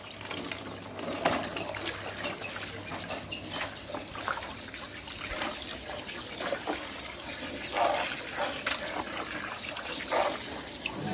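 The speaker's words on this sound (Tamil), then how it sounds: "தண்ணியை ஊற்றி கறியை கழுவிக்கலாம்." Water poured and splashing in a village kitchen as raw meat is rinsed for a family biryani, with intermittent trickles and splashes continuing steadily throughout, moderately close with outdoor ambience behind.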